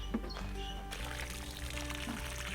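Water poured from a can onto soil over newly sown bean and cucumber seeds, a soft continuous splashing and trickling, fairly quiet and steady throughout.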